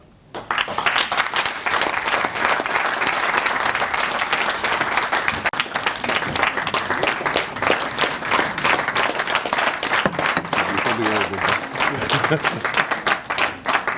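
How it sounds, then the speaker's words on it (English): Sustained, dense applause fills a hall after Prof. Ibbo Mandaza's memorial lecture, loud and even throughout, with voices murmuring beneath it toward the end. "Another round of applause for Dr. Mandaza."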